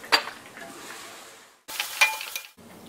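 Fried chicken is lifted out of hot oil in a pan for chicken dum biryani, with a steady sizzle and crackle, sharp metal utensil clinks against the pan, and a brief lull between scoops.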